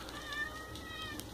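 A cat gives a faint, thin meow over the steady whir of a 1970s or 80s Marvin model 1015 ten-inch window fan running in a bathroom window.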